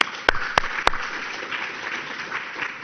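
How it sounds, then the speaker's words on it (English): Audience applause at a tech talk celebrating the OpenSearch 3.0 release, a few loud claps up front followed by a moderate, steady patter of clapping from the crowd. "So let's give a round of applause for the project."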